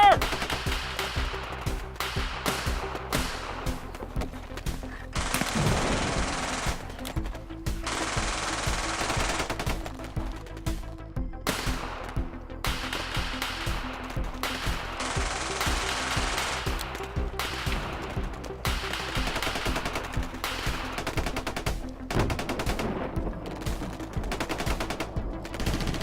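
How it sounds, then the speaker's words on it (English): Sustained machine gun fire rattles through a battle scene in a post-apocalyptic action comedy film, a dense, loud and continuous barrage of bursts with faint shouting mixed in. "We're under heavy fire!"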